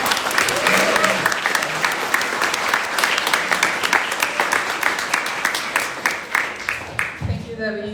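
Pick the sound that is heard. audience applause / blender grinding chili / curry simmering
audience applause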